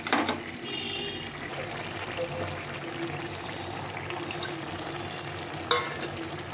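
Small chun fish go into a simmering pot of winter vegetables with onion stalks, giving a soft bubbling, sizzling burble with a light splash and a few clinks near the start and a knock near the end, quiet and close.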